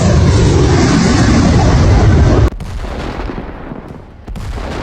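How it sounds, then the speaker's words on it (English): Anti-aircraft gunfire aimed at a drone, a loud dense roaring burst of rapid shots for over two seconds that cuts off abruptly, followed by quieter rumbling and a brief later burst. "The Russians notice they're being spotted and fire on the drone."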